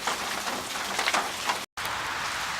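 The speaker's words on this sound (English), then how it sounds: "I'm gonna wait out the rain just a little bit further" Steady, dense rain falls outside an old barn, a loud continuous patter with a brief cut near the end and no voices.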